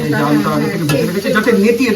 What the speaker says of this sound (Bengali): এখন পেঁয়াজ কলিটাকে ভাজছি